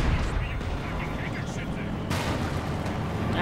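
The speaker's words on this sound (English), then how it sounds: "a Katyusha arriving here for Hansmoleman, adding a bit of rockety fun." Katyusha rocket artillery barrage in Company of Heroes 2, a dense rumbling roar of launches and blasts that swells again partway through, sustained and loud without pause.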